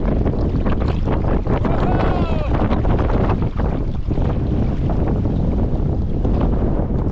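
Strong wind gusts across open water around a solo canoe, a heavy, constant roar of buffeting and rushing air, with faint splashes of water under it, close and loud throughout.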